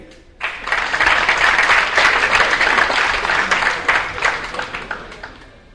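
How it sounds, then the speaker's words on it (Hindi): Audience at a comic Eid ul Azha mushaira poetry gathering broadcast on television applauds a poet coming to the stage: dense, loud clapping that starts abruptly after a brief pause, holds steady, then slowly thins out. "और अब आपकी भरपूर तालियों में तशरीफ लाते हैं हमारे बड़े प्यारे शायर जनाबे इदरीस कुरैशी।"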